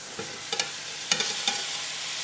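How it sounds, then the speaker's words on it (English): Sausage sizzling in a pan with a steady frying hiss, punctuated by a few short stirring scrapes and clicks close by, no voices. "now I'm going to throw the sausage in it"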